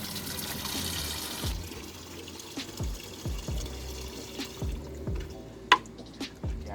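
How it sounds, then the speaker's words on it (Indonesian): Booster solution being mixed with water in a 5 to 7 liter jerrycan, with sloshing and gurgling liquid and a series of hollow knocks and splashes at a steady rhythm, close by and with no talking. "Kita campur aduk dengan air."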